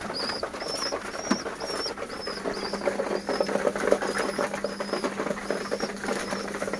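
Domestic pigeons in their coop give soft, low coos amid light rustling and shuffling, with repeated thin chirps above a faint background hum.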